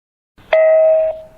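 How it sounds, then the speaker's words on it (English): A Tivdio T10D video intercom doorbell rings with one loud electronic ding that holds a steady tone for over half a second, then fades quietly, with no talk. "Doorbell ringing duration is 30 seconds for each call."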